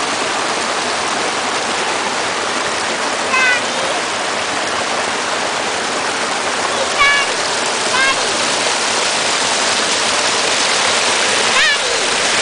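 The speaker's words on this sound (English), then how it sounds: "just a little better look of the creek down that way" Steady rushing flow of a creek near a campsite, a loud constant wash of water with a few faint higher chirps or squeaks appearing briefly over it.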